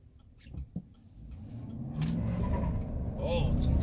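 A 2019 GMC Denali accelerates hard from 0 to 60, its engine note swelling into a loud, steady roar that builds from the midpoint onward, with a brief voice audible early on.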